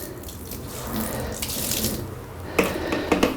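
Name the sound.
liquid poured onto carpet to saturate it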